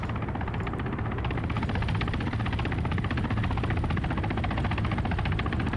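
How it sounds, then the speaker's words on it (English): A helicopter in a military video game flies overhead, its rotor chop a steady, loud, continuous thrum that holds for the whole stretch with no talk over it. "Where the hell is that helicopter?"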